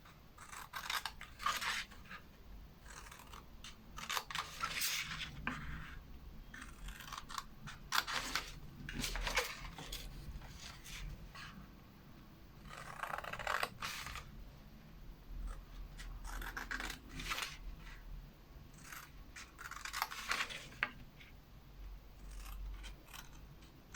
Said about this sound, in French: Et il ne reste plus qu'à couper les plis des côtés.